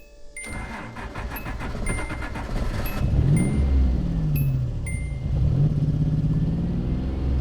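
A 1986 widebody Nissan 300ZX engine runs steadily nearby and picks up a little gas, its rumble rising and easing in a couple of gentle revs after a brief ticking start.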